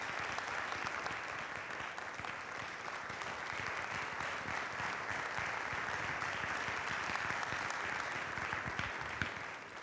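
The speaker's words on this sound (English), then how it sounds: "with a round of applause, let's make welcome Yemi Ademolakun" Steady, dense applause from a large audience welcoming a keynote speaker fills the whole stretch, loud and continuous without letting up.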